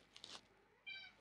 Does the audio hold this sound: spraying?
no